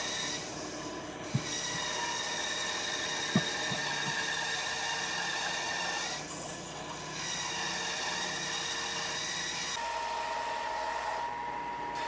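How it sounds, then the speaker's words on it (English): A bandsaw trims down a large wooden block for a knife handle, a steady mechanical whirring drone with a couple of sharp clicks and slight shifts in pitch as the wood is fed through. "I'm just going to trim it down some with this bandsaw here"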